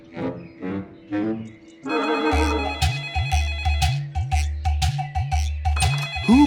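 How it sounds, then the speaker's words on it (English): A phone ringing in a children's bedtime story, a repeating electronic ringtone melody with a regular rhythmic pattern, loud and close, following a brief stretch of soft tones before it starts. "his phone rang"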